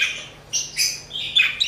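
English budgies in an aviary give quick, bright chirps and short squawky calls in irregular bursts, close and fairly loud, with no voices.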